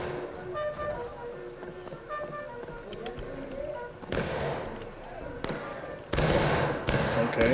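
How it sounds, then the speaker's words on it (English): Musket gunfire in the Civil War battle game War of Rights: a few sharp, loud bursts of shots cut through a busy battlefield din under a player's talk. "Okay, well, we're shooting."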